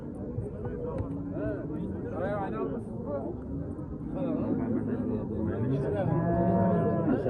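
Simmental cattle moo and low nearby at a livestock market, several overlapping calls from a herd, while people talk in the background throughout.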